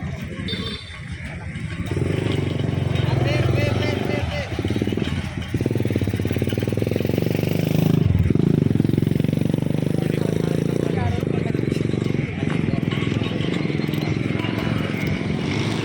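Riding as a passenger on a motorcycle after rain, with a continuous close engine drone and road rumble mixed with wind and clatter, while someone talks over it.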